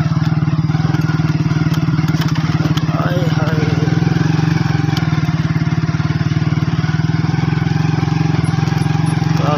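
Honda 125 motorcycle riding down a village lane, its steady engine drone loud and close throughout, with faint clatter over the continuous buzz.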